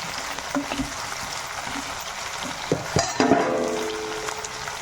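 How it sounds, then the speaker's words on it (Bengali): Vegetables including capsicum and potato frying in a pan with salt and turmeric, a soft continuous sizzle with faint stirring scrapes and a brief louder clatter near the end, no talk. "এবারে এগুলো একটু আমি ভেজে নেব।"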